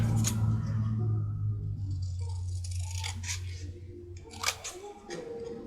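Scissors snip through packaging scraps being trimmed down as a base for ephemera, a few crisp cuts and rustles rising toward the end over a low steady hum.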